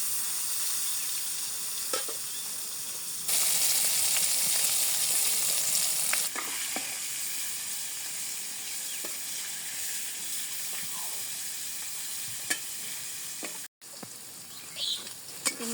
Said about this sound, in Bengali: মাছটি আমার ভাজা হয়ে গেছে গা